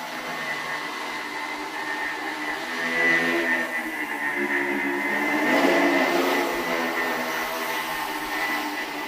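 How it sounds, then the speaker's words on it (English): A high-performance quadricopter hovers nearby, its propellers and motors producing a steady whining drone with a sharp pitched tone that swells slightly twice, with no voices. "When you put them together, they behave like one high-performance quadricopter."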